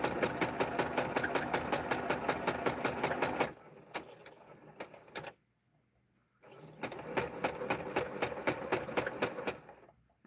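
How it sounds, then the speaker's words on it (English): A sewing machine stitches the sides of an arrowhead quilt block in steady, rapid mechanical runs, close and clear, broken by a short pause and near silence before stitching resumes. "I sewed the first 2 sides."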